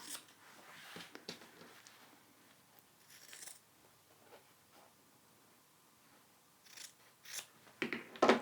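Scissors snipping fabric close to the stitching of a quilted zippered pouch, a series of crisp, close cuts spaced irregularly, quiet overall with a few sharper snips toward the end.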